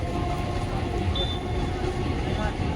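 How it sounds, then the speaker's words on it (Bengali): A train rumbles past steadily with a continuous low roar and faint rail noise, close by, while people talk over it. "আপে ট্রেনটা যাচ্ছে তো এত ভিড়"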